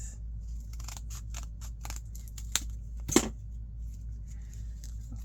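Scissors snip through an index card or book page while a tiny mini book is being made, a series of quiet, close cuts followed by a couple of sharper snaps and then near silence.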